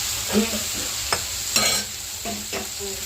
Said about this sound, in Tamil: இந்த எண்ணெயிலே இந்த காய்களெல்லாம் நல்லா வதக்கி எடுத்துக்கலாம்